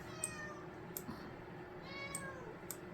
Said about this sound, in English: My cat's gonna meow all day long here.